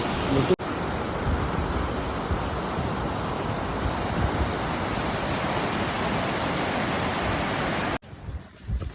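Loud, continuous rushing mountain water roars steadily, then cuts abruptly near the end to a quieter background.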